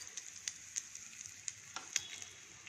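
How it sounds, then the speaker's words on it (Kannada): Mustard seeds and asafoetida tempering in two spoons of hot oil in a kadai, giving a faint, steady sizzle with scattered sharp pops and crackles, heard alone without voices. "ಹಿಂಗು ಸಾಸಿವೆ ಒಗ್ಗರಣೆ ಸಾಕು ಇದಕ್ಕೆ."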